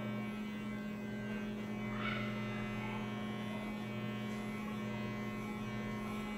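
An electric hair clipper fitted with a number 3 guard runs during a traditional men's haircut, giving a faint, steady buzzing hum that holds unchanged throughout.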